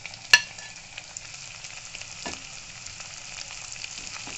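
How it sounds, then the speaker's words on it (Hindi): Onions and green chillies fry for dal tadka, giving a soft, steady sizzle close by, with one sharp clink near the start and a brief scrape of stirring, and no talking. "सुनहरा होने तक चलाते रहेंगे। प्याज भून चुके हैं।"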